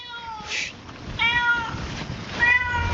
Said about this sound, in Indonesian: Suara kucing memanggil temannya.